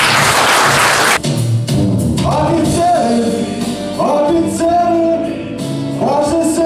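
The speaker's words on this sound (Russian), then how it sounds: "Держите их бурными аплодисментами" Loud, sustained applause from a large audience at a staged show, a dense roar of clapping that carries on throughout, with music and voices faintly under it.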